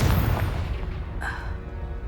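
A Confringo blasting spell explodes in the Hogwarts Legacy video game, a deep booming burst with a rumbling low tail and a brief crackle, loud and close over game sound.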